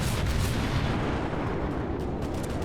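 Warship naval gun fire in World of Warships: a continuous, heavy rumble of distant booms and blasts that rolls on steadily throughout, with no speech.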